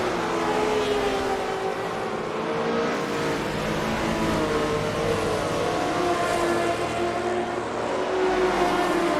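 Engines of 1974 Porsche 911 RSR race cars at Deutschlandring in a racing game, a continuous loud roar with shifting engine pitch from several cars.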